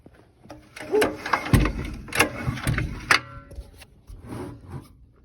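A gas water pump engine with no carburetor and very little compression is pulled over by its starter rope, giving a run of uneven mechanical clunks and scraping rasps up close, with no firing.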